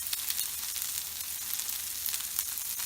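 Spices fry with okra in hot oil for bhindi masala, a steady close, bright sizzle that hisses continuously without a break.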